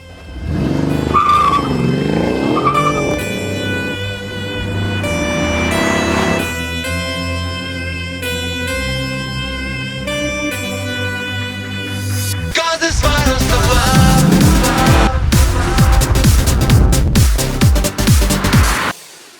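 A Mercedes-Benz CLS 63 AMG with a biturbo V8 revs repeatedly through its exhaust, loud and close, with rising and falling engine tones, then a fierce full-throttle roar near the end.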